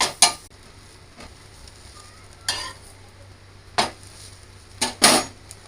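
Butter on a chapati sizzles in a hot pan, with several short bursts of frying crackle and scraping as it is spread and stirred, separated by quiet low hum.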